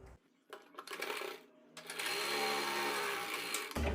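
Bursts of a sewing machine stitching blouse fabric with a quarter-inch margin: short runs first, then a sustained loud buzzing run near the end before stopping abruptly.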